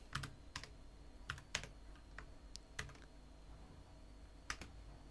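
Typing on a computer keyboard while writing code: scattered, irregular key clicks, some sharper than others, close by and fairly quiet, with no talking.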